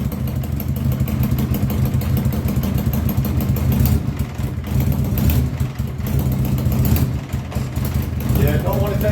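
A 1982 Honda Goldwing motorcycle engine idling: a loud, continuous, slightly uneven low rumble close by, with a voice talking over it.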